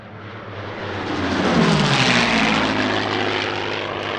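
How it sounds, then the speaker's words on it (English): A vintage P-38 propeller fighter-bomber flying at the 2021 Leszno airshow, its loud engine roar swelling as it approaches, peaking, then slowly fading away. "Today it flies alongside the collection's P-38, the only P-38 outside of North America that is still in airworthy condition"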